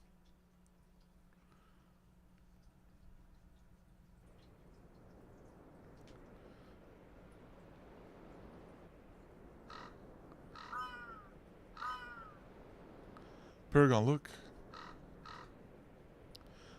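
Birds cawing in the Castle Snow and Ice section of the video game Fate Grand Order, scattered harsh calls over quiet ambience, growing louder toward a sharp close burst near the end; a voice speaks briefly.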